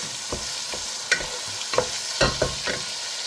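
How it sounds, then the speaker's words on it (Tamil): Tomatoes sautéing in a pan for a fish curry, being stirred with sharp scraping strokes over a soft steady sizzle, close and clear with no voices. "நம்மளாவே கொழுப்பை விட்டுட்டு தக்காளி பழத்தை போட்டு வதக்கலாம்"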